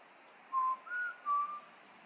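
A person outdoors whistles a short tune of three clear notes, faint and somewhat distant against quiet background noise.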